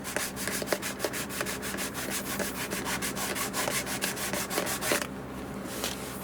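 A Taylor guitar's hardened finish is rubbed and polished by hand, giving a steady close scratchy friction with rhythmic strokes throughout, then a smoother hiss near the end.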